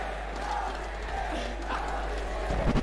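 A stadium crowd at The International 2018 Dota 2 grand final roars with a sustained, dense cheer that holds steady throughout and swells with a few louder shouts near the end.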